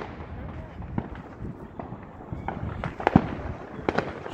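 Fourth of July fireworks popping and cracking at a distance, scattered sharp bangs over a low rumbling background, with a few louder bursts toward the end.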